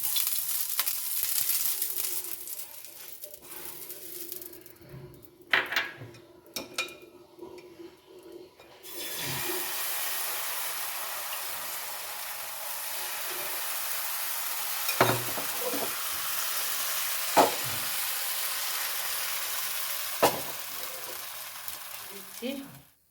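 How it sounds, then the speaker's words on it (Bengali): Ghee on a hot tawa for patishapta pitha, with handling noises and clinks first, then a steady sizzling hiss broken by a few sharp taps, quiet and close. "চাটুটা গরম হয়ে গেছে, আমি একটু ঘি বলিয়ে নিচ্ছি।"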